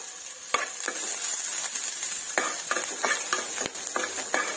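Onion, ginger and garlic frying in hot oil in a wok, a constant bright sizzle broken by repeated sharp scrapes and taps of a spatula stirring, close up with no talking.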